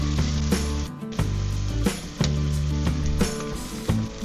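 Onions frying in a pot for one-pot cheeseburger rice, a steady loud sizzle with repeated sharp clanks and scrapes of stirring, no talk.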